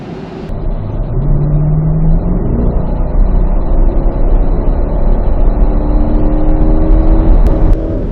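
Corvette E-Ray hybrid all-wheel-drive sports car accelerating hard on a race track, a loud, close, steady engine roar with rising tone and a whirring note, with no talk over it.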